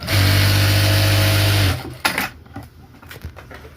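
A Jack A2 industrial sewing machine runs loudly and steadily as it stitches through several layers of blouse fabric, holding a high motor whine for about a second and a half. It then stops and only quiet handling clicks and rustles follow.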